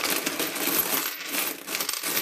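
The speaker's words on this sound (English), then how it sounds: "All the coins." Coins pour out of a coin bank, a dense continuous metallic jingle and clatter of many coins tumbling close by for about two seconds, with no talking.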